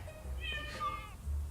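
A cat gives a short, faint meow with a rising-then-falling tonal call lasting about a second over a low background hum.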